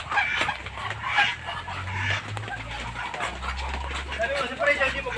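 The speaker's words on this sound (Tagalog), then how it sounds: "dito meron daw imported siyang binebenta yung Rhode Island chicken na kulay black" Black Rhode Island chickens cluck at a poultry seller's place alongside ducks, short clucks scattered through a busy mix with people talking nearby and a dog in the background.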